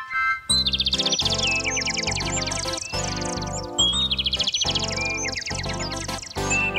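Bright, rapid bird chirps and tweets repeat in quick bursts over a continuous musical backing. They come through loud and clear, with no speech.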